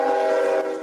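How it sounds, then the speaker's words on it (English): A train horn sounds loudly as a train passes through a small Ohio town near a derailment site, one sustained blaring tone that softens at the end with nothing else heard. "As trains continue to pass through this small town"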